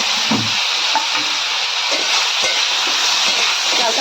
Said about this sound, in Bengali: এবার এর মধ্যে সিদ্ধ করা চালতাগুলো দিয়ে দেব।